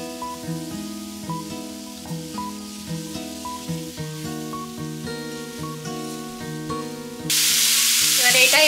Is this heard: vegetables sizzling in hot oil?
yes